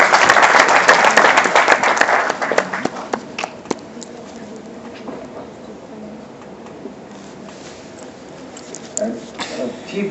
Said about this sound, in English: Let's welcome sir with a big round of applause